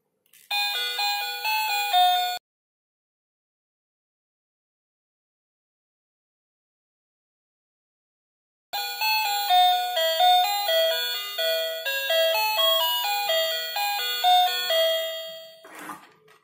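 A musical toy plays a bright electronic chiming melody, stops for several seconds of silence, then plays again.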